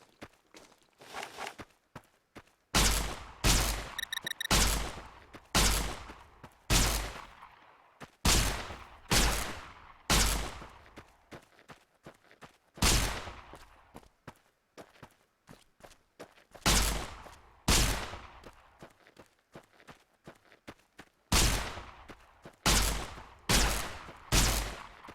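Laser gun in Fallout New Vegas firing in a run of sharp, loud, percussive bursts, repeated shots spaced a second or two apart with clustered volleys across the whole stretch, no talking.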